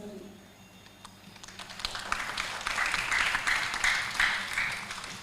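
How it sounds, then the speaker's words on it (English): An audience applauds the event committee at a World Mental Health Day 2025 celebration. The clapping starts faint and swells into a fuller, sustained round midway through, with some background murmur. "So give applause for all my committee, to all my kids that has make this event run smoothly."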